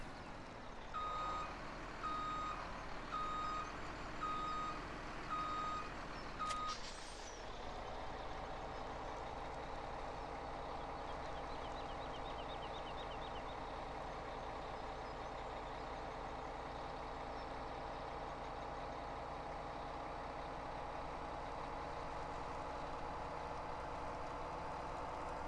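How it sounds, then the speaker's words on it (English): A truck hauling a trailer in Farming Simulator 17 beeps steadily while reversing, then settles into a continuous low engine drone that runs on evenly and fairly loud. "this truck apparently has a little bit of a hard time pulling this trailer"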